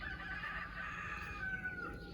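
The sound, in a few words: rooster crowing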